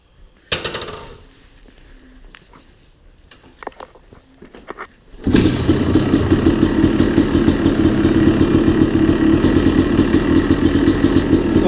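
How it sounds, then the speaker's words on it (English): A supermoto motorcycle fitted with new shock and fork springs starts up after some quiet clatter and then runs with a loud, steady, rapid engine rumble, close and continuous. "I thought it would be cool for you guys to see the bike riding at night and see how the lights work"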